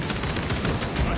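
Continuous, dense fire from a Pyroblaster weapon in Warhammer 40K: Space Marine 2 forms a loud, steady roar of rapid blasts with no break.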